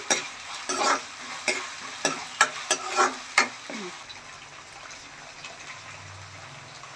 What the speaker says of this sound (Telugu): అల్లం పేస్ట్ కూడా ఆయిల్లో మగ్గాలండి.